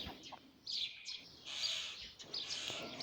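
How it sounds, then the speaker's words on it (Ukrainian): Common starling calling at a rural homestead in Ukraine's Poltava region, a series of bright chirps, whistles and rasping notes in short bursts, fairly close but soft against a quiet background. "Шпак звичайний, та хто ж його не знає"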